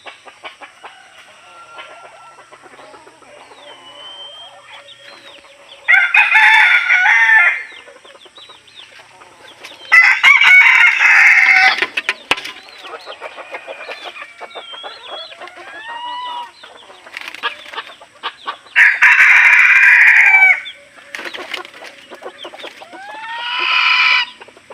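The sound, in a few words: red junglefowl roosters crowing in jungle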